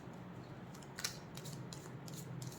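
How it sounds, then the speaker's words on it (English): Oddly shaped tarot cards are shuffled by hand, giving faint, close papery riffles and soft flicks in short irregular bursts over a quiet background hum. "The cards are a little tricky to shuffle because of the shape."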